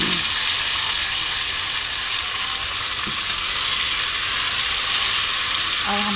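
Mutton pieces fry in hot oil with light golden brown onions over high heat, producing a loud, continuous, dense sizzle with faint stirring knocks, close and steady throughout.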